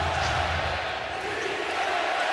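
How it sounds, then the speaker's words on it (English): A large stadium crowd cheers steadily at an NFL game between the Los Angeles Rams and San Francisco 49ers, a broad sustained roar with no breaks. "And finally, this crowd here, something to cheer about."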